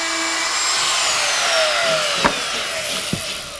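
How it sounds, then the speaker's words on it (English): A router cuts through a drywall panel to open an electrical box, a loud continuous high whine with a couple of short knocks near the end. "don't apply too much pressure against the panel with the router or with your foot, or the drywall will bust out as the box is cut"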